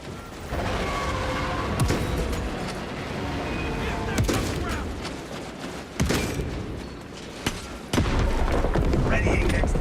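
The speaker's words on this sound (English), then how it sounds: "Detonate the charges now." Explosive charges detonate in a video game battle, giving loud, crackling blasts and sharp bangs over a steady roar of combat, with several strong hits toward the end and voices speaking over it.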